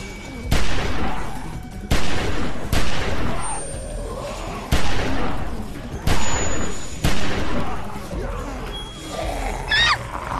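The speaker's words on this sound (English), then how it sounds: "I shot at him." Gunshots in The Walking Dead video game, about eight loud, sharp blasts spaced a second or so apart, each with a ringing tail, close and dominant.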